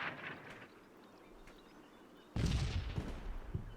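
Artillery fire in a video game: after a quiet stretch with a few faint thuds, a sudden heavy boom lands and rumbles on with rough, rolling echoes to the end, no one talking.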